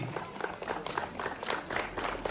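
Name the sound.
audience applause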